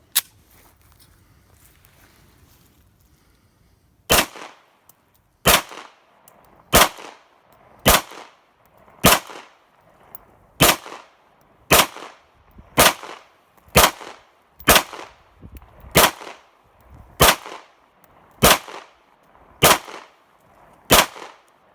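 A CZ P07 pistol fires polymer-coated steel case ammunition at a range: about fifteen loud, sharp shots spaced roughly a second apart, with a quiet lead-in and no talking.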